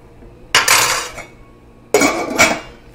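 Clam sauce stirred in a pot, two loud close bursts of a metal spoon scraping and clanking around the pot, separated by a short quiet gap.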